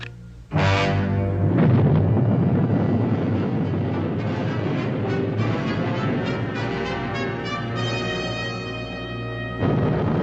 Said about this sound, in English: The controller decides to fire cloud seeding rockets just ahead of the hurricane